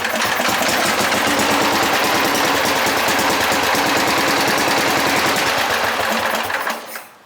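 Cold-started Bolens GroundsKeeper and Husky 1054 garden tractor engines running loudly with a steady rapid chugging idle, continuous and close, before cutting off abruptly near the end.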